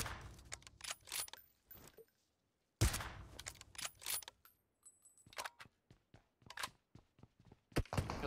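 Video game gunfire in quick bursts and single sharp shots, some close and loud and others fainter, broken by short silent gaps.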